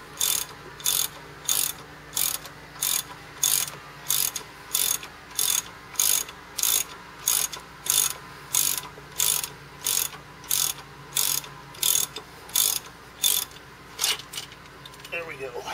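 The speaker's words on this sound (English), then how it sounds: "It's going to make me thread it all the way off." Ratchet clicking in steady rapid bursts while unthreading the crankshaft sprocket bolt on a Nissan VG30E engine; about two dozen evenly spaced, loud close ratcheting strokes with no talk.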